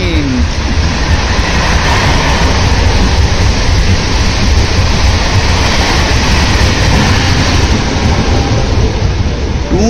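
Two trains roll through a railway platform at the same time, a loud continuous rumble and rattle of wheels and carriages that fills the whole stretch without a break.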